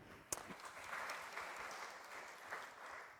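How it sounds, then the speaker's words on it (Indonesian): Audience applause at an IFGF Tokyo church worship service, a steady wash of many hands clapping at moderate distance, beginning with a sharp clap and holding evenly throughout without voices. "Berikan tepuk tangan dulu."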